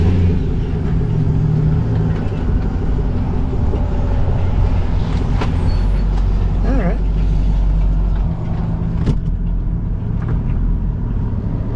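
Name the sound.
car engine running on a jump box in repair shop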